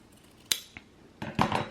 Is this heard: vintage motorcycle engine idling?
no